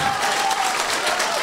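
Loud, dense applause from an audience at a stage event, a continuous wash of clapping throughout.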